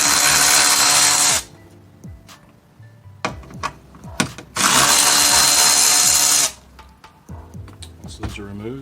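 A power tool whirs in two loud, steady bursts, each lasting a couple of seconds, as it removes the 10 mm bolts on a 2019-2022 Toyota RAV4. A person talks in the gaps between bursts.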